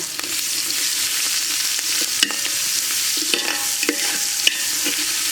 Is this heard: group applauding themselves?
no